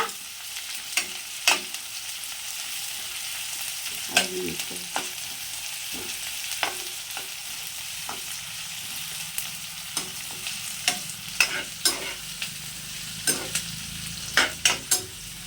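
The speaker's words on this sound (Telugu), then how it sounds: "ఉల్లిగడ్డ కొంచెం వేగినాక" Onions fry in a pan for a tomato curry, a steady soft sizzle broken by frequent sharp scrapes and taps of a stirring spoon, close and fairly quiet.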